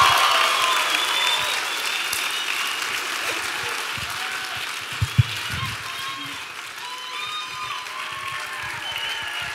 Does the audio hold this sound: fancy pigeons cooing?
no